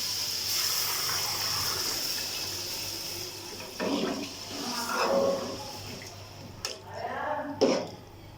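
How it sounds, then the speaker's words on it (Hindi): Water streams and splashes into a cooking pot of rice for pulao, running steadily, with a few louder gushes and clinks toward the end. "अब मैं इसी हिसाब से इसमें पानी शामिल कर रही हूँ"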